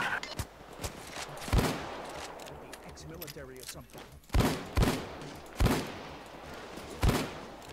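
Judge shotgun blasts in Payday 2, several heavy booming shots spaced irregularly a second or more apart, loud and close over a busy game background with brief talk.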